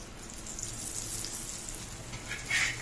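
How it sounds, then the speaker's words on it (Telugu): A paratha roasting on a hot griddle as oil is added, a soft continuous sizzle with light crackle that swells briefly near the end, close and steady without talk. "అటు ఇటు రోస్ట్ అయ్యాక ఇలాగా అప్పుడు మనం ఆయిల్ వేసుకోవాలి."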